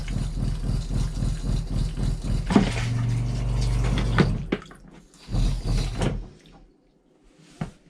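Pink antifreeze runs through the water lines of a Jayco Jay Flight camper as the pump hums steadily under a pulsing rhythm, then stops for quiet gaps broken by short bursts of splashing flow and clunks.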